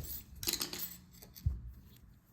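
Scissors snipping through crochet yarn: two quick, crisp cuts about a second apart, close and fairly quiet with no talking.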